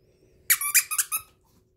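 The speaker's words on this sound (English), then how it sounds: "They all squeak. All those ones squeak." A squeaky dog toy gives four or five quick, sharp squeaks in a short burst, close and loud against a quiet room.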